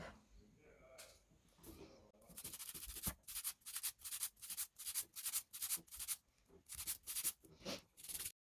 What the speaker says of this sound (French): je vais pouvoir commencer à limer